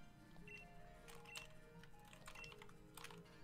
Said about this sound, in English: All I hear is keys typing away.